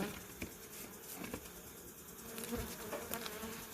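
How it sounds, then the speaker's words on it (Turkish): Soft buzzing of a few honeybees at evening hives during honey harvest, several insects droning close by, with faint patter and rustling around them. "Gördüğünüz gibi çok az arı var."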